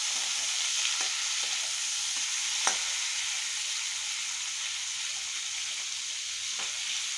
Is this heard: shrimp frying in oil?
yes